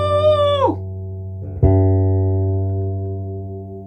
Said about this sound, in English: First thing I want to do is tune it up, because I can hear that's off.